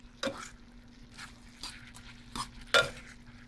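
Cooked noodles stirred into sauteing vegetables in a pan for vegan chow mein: several separate scraping, clacking strokes of a utensil against the pan at uneven intervals over a low steady hum, with no voices.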